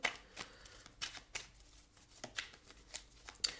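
Tarot cards are shuffled close by in a quiet room, with a string of brisk papery riffles and soft slaps coming in uneven bursts.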